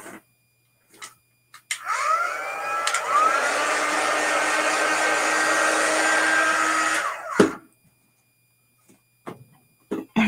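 A small handheld dryer blows on chalk paste on a craft project, starting with a rising whir, running as a steady close hum for about five seconds and then shutting off, with light handling clicks before and after.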